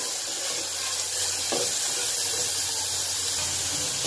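Grated carrot frying in ghee gives a steady, dense sizzle that hisses on without pause, close and fairly loud, with a brief stir or clink around the middle.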